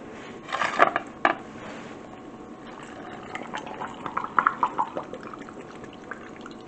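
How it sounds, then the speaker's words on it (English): Beef stew bubbling and trickling inside glass jars during cold pack canning, with soft gurgles and a few sharp drips and clinks; faint, close, and without talk. "You hear them bubbling there."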